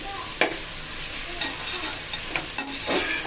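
Soya chunks (meal maker) stir-fried in a pan, a steady broadband sizzle broken by several sharp scraping stirs of a spoon against the metal, close and fairly loud, with no voices.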